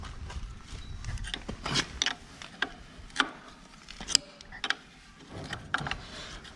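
A 22 mm wrench works on mechanical parts while new hoses are fitted, giving scattered sharp metallic clicks and clanks at irregular intervals over a quiet workshop background, with no talk.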